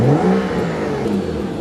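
A BMW 335i straight-six engine revs hard, its harmonic tone climbing and falling in a loud, close, smooth drone.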